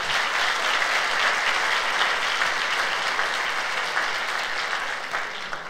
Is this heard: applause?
yes